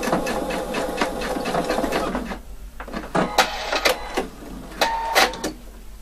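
A sewing machine stitching piping for a double welt pocket hums in a steady close run, then stops and gives way to scattered fabric handling and a few short clicks and taps.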